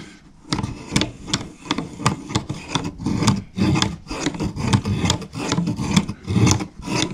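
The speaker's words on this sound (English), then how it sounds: "I'm going to put the pencil in here and show you exactly how this works." An antique automatic pencil sharpener grinds a pencil in rapid, rhythmic rasping strokes, close and fairly loud, continuing steadily without speech.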